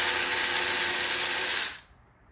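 A ratchet or power tool buzzes continuously and loudly for under two seconds while backing out intake bolts on a Ford Falcon being torn down after engine damage at Drag Week, then stops abruptly.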